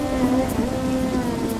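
Rain in an animated story about a homeless poor farmer family sheltering under a giant mushroom at night, a dense steady hiss of falling rain with a low rumbling undertone, continuous and even.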